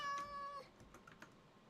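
A single clear, close cat meow rises at the start and fades within about half a second, then soft clicking like typing on a computer keyboard continues alone.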